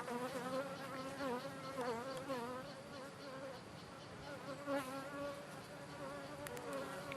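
Bees hum and buzz around a newly set up hive, a steady layered drone of many insects close by with wavering pitch, no voices present.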